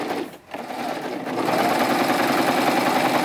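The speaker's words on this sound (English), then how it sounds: "I'm going to go right over some of the area that's been previously stitched" A serger sewing machine stitches over fabric across a previously sewn area: a dense, rapid mechanical whir that dips briefly near the start, then runs loud and steady up close.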